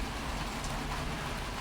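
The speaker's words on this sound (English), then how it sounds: "I don't know if you can hear the rain hitting the metal roof" Steady rain drumming on a metal roof during a heavy rainy spell, a dense, even hiss of drops close overhead, fairly quiet and constant with no talking.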